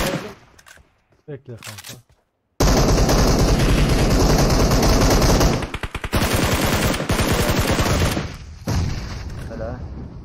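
Gunfire in the mobile game PUBG Mobile roars in long, loud, dense automatic bursts after a short pause, with brief gaps between volleys, while players talk over the shooting.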